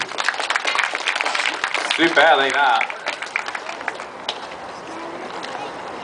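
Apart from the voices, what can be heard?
audience applauding a seal after a trick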